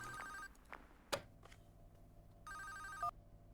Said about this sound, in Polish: Dobra, kolejny telefon.